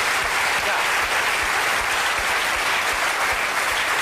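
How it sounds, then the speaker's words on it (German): A studio audience at a German TV panel comedy show applauds, a continuous, even wash of clapping that holds at full strength throughout. "Jetzt kriegt Frau Fuchs erstmal einen kleinen Applaus."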